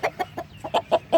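A black Aseel rooster with golden feathers clucks in a quick series of about seven short, sharp calls, close by and evenly spaced, with no talk over them.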